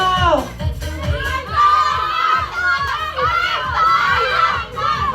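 A group of children and adults shouts together loudly on command at an outdoor grouping game, a sustained crowd roar of overlapping voices with cheering peaks.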